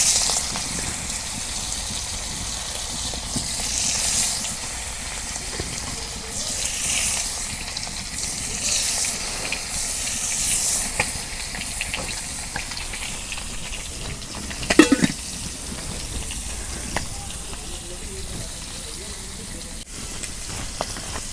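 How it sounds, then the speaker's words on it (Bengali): Pieces of fish, such as kamal kath and red mola, being fried one by one in a village kitchen pan: a steady, bright sizzling hiss with a sharp clatter partway through. "মাছ মাহানি হয়ে গেছে, এখন মাছ এক এক করে আমি ভাইজা নিই।"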